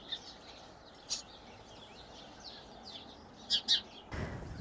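Small garden birds chirp in winter, a few faint scattered tweets over a quiet outdoor background with two brighter calls near the end, followed by a brief burst of broadband noise.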